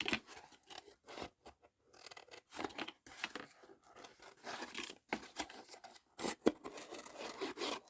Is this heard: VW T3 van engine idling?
no